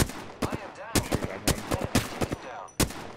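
Gunfire in the video game Apex Legends: rapid bursts of shots crackle in quick clusters with short gaps between them, loud and close, with a final sharp shot near the end.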